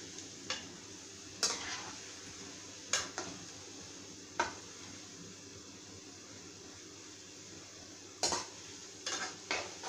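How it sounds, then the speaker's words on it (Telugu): Multigrain punugulu fry in hot oil with a soft continuous sizzle, punctuated by sharp metallic clinks and scrapes as a utensil turns them in the pan. "చక్కగా రెండు పక్కల ఇలా తిప్పుతూ వేయించుకుంటే"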